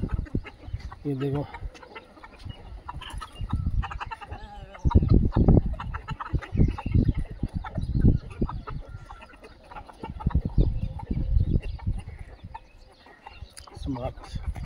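Free-range desi chickens and roosters cluck and call all around on a low-cost poultry farm, with someone speaking Hindi close by throughout.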